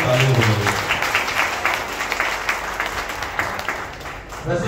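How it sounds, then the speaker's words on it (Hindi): An audience bursts into sustained applause, dense clapping that is loud at first and slowly thins out. A voice can be heard briefly near the end. "अपने को ताली बजाइए।"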